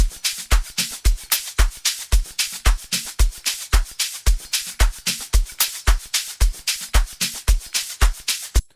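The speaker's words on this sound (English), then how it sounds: "It's a nice solid drum loop to start off the beat." A steady, punchy amapiano drum loop with a regular kick and crisp hi-hat pattern repeating evenly throughout, loud and alone.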